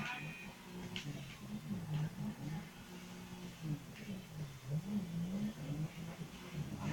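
A car engine in GTA 5 revs up and down in repeated swells as the car slides and struggles for grip, faint and wavering under a low background.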